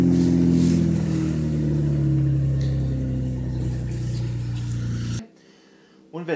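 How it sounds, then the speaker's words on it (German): Ferrari 458 Italia driving, a loud steady engine drone with strong low harmonics that shift in pitch, cutting out sharply near the end before a brief return of sound. "Wir fahren jetzt mit dem Ferrari 458 Italia."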